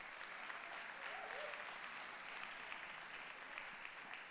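Steady applause carries through the whole moment for graduating seniors at a university awards event, even and fairly faint, with no other sound rising above it.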